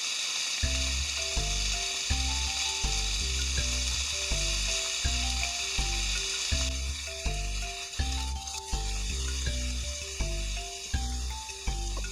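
Pork slices frying in a pan for Hokkaido-style butadon give a loud, steady sizzle throughout, accompanied by a light, rhythmic melodic music track.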